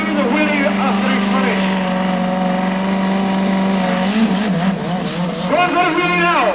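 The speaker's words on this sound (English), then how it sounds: "Doing his burn-up on the wheels now, and watch him do the wheelie after he's" A motorcycle burn-up at the 1989 National Power Sports Festival at Aintree: a loud, sustained engine roar with revving pitch sweeps as the wheel spins, while a commentator talks over it on a public address.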